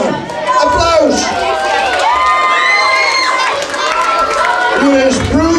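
An audience at a talent show cheers loudly and continuously, with high excited shouts and whoops rising over a dense crowd roar.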